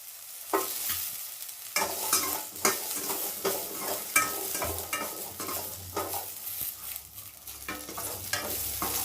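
About ten small onions are sautéing in a kadai as a mutton kuzhambu is made. A lively sizzle is broken by repeated spatula scrapes and stirring knocks, close by and irregular, with no speech.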